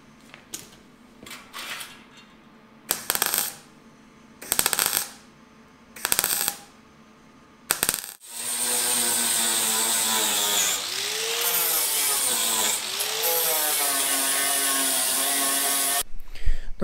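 A MIG welder lays a patch onto rusty car sheet metal: after a few short clanks and bursts, a loud, steady crackling hiss runs unbroken for about eight seconds.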